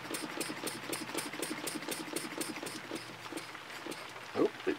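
A small wobble-plate steam engine runs slowly at low pressure, giving a steady quick chuffing tick of regular exhaust beats close by, with a brief louder knock near the end.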